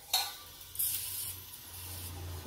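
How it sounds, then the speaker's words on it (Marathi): Stuffed green chillies fry in a little oil over a low gas flame, giving a soft steady sizzle with a couple of brief scraping stirs near the start and no talking. "गॅसची फ्लेम कमी ठेवायची आणि या मिरच्या अगदी कमी तेलावर अशा भाजून घ्यायच्या आहेत।"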